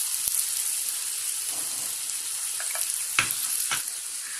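Chili powder and cumin frying in hot oil for a spicy fish and potato curry, a constant close sizzle with a few sharp stirring clicks and spatters, no voices.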